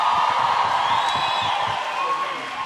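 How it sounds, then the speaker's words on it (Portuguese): Studio audience at a TV Aparecida broadcast of a Rosa de Saron special claps and cheers, a dense steady wash of applause that eases off slightly toward the end. "Salva de palmas!"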